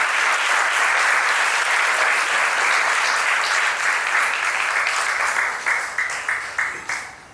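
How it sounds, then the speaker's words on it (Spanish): A church congregation at a Santiago, Chile seminar gives sustained, loud applause. The dense clapping fills the room evenly, then thins into scattered individual claps and fades out at the end. "¿por qué no se pone de pie y da un aplauso más grande?"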